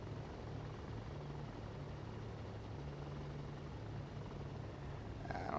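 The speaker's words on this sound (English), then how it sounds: "sounds like that engine's about to quit too right now" Rough, steady aircraft engine drone from the IL-2 Sturmovik combat flight game, a failing engine running unevenly with a low throbbing pulse, continuous and fairly close throughout, no talk.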